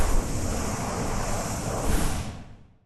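A layered whoosh effect, cut-up noisy whoosh with chorus and pitch modulation added, rushes as a loud, broadband swelling sweep for nearly three seconds before tapering off, with no voices.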